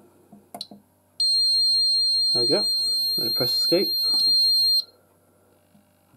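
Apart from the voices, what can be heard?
buzzer test on an Advanced MX4100 fire alarm panel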